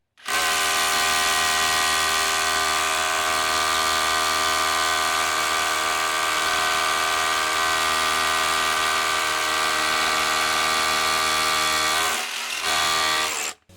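Ridgid Octane rotary hammer drilling into concrete, a loud, close, continuous hammering drone that runs steadily for about twelve seconds, then breaks off briefly and starts again.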